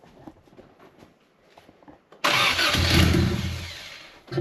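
A car engine cranks and catches abruptly partway through, then settles into a loud, steady idle after a quiet stretch of faint background noise.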